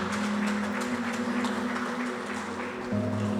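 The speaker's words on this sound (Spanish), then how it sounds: "Y dele un fuerte aplauso ahí donde tú estás." Congregation at a church service giving applause, a dense, steady clapping wash mixed with sustained musical tones from instruments in the background.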